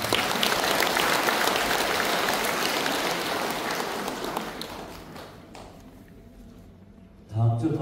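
Congregation applauding at a Buddhist temple service, a dense sustained wash of many hands clapping that gradually thins and fades out over several seconds before a short louder burst at the end.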